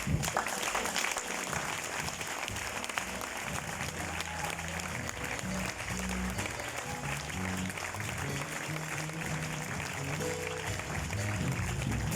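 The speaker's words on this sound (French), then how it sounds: "Vous méritez les acclamations." Sustained applause and cheering at a graduation ceremony for former students, dense and continuous, with crowd voices mixed into the clapping and a low musical or rumbling bed underneath.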